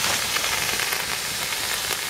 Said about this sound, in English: It is live steam coming out.